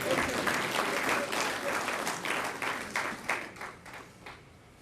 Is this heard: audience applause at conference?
yes